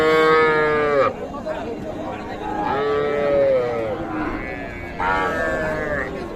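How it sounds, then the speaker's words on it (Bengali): A Sahiwal heifer calf at a cattle market lets out loud, close moos in repeated drawn-out calls, with market chatter and voices around it. "এটা শাহিওয়াল জাতের বকনা বাছুর।"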